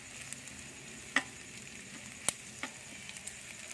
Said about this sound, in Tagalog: Gisa-gisa na tayo sa adobong kangkong.